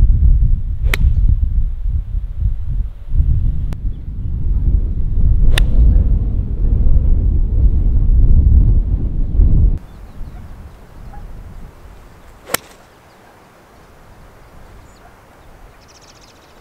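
Several sharp, crisp clicks of Ping G410 5-iron and 7-iron golf clubs striking a ball ring out separately, first over a rumbling outdoor background, later in quieter open air.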